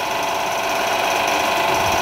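A vacuum pump runs steadily during a McLeod gauge test in a lab, giving a continuous, even mechanical hum and whir with no change in level and no talking.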